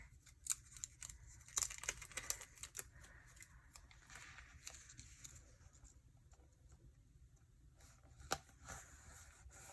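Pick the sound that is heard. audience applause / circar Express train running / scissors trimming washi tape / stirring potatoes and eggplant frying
scissors trimming washi tape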